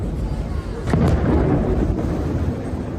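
A deep, rumbling explosion in Khan Younis, Gaza swells and rolls on, heavy low-end boom with a dull roar that lingers rather than a sharp crack.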